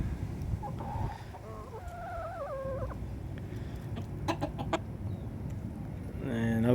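Chickens cluck and chatter close by while pecking feed from an outstretched hand in a backyard flock, with short bursts of soft calls and a few sharper squawks over low ambient noise.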